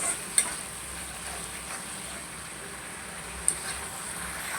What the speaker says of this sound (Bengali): এখন দিয়ে দেবো মরিচের গুঁড়ো।